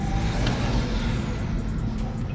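A BMW M340i with the B58 turbocharged inline-six runs in a loud, continuous engine drone from inside the car, with a faint rising whistle and wind noise layered over it.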